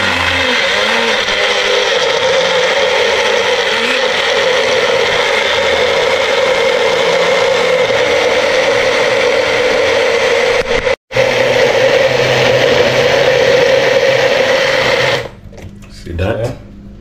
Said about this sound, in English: When we blend a lot of things.